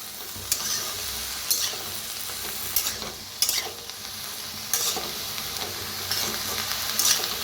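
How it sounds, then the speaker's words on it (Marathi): Mixed winter vegetables and peas roast in a kadai over a wood-fired chulha, giving a steady sizzle broken by a few sharp spatula scrapes and stirs. "सगळं भाजून घ्यायच्या सगळ्यात लास्ट वटाणं टाकूया"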